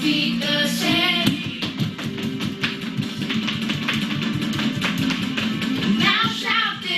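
Children at a preschool stomp their feet in time with an action song, dull rhythmic thuds and taps under the music, steady and fairly close throughout.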